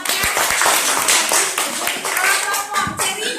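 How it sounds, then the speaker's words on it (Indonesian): Grade 6 pupils in a primary school classroom in Aceh clap loudly for a student group, a dense burst of close hand claps lasting several seconds, with voices mixed in. "Tepuk tangan buat kelompok mangga."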